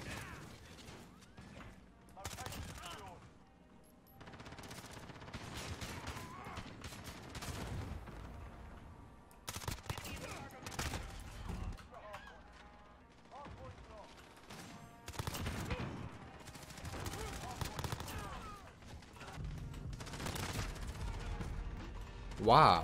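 Rapid gunfire in a PC first-person shooter game, bursts of automatic fire and shots repeating almost continuously, with players talking and shouting over it throughout.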